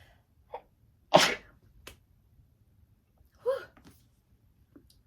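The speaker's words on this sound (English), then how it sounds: "I just sneezed." A single sharp sneeze bursts out, close and fairly loud, followed by a couple of faint small noises in a quiet room.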